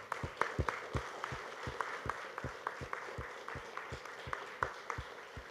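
Rhythmic clapping repeats steadily throughout, a crowd applauding in time, fairly faint and distant.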